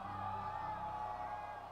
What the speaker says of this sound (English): I hear a bunch of people cheering for Amber Heard over there.